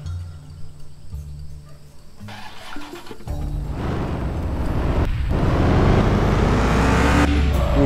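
In the Car For Sale Simulator 2023 video game, a Mustang's engine idles low, then revs up into a loud, rising roar that builds and holds near the end, with no talking.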